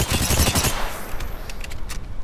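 Rapid automatic gunfire rattles in Apex Legends, loud and dense at first, then thinning to scattered distant shots and muffled impacts, with no voices over it.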